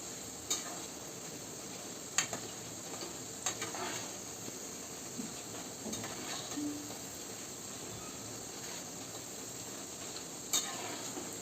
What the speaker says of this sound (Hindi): इसे क्रिस्पी होने तक फ्राई करना है 2 मिनट के लिए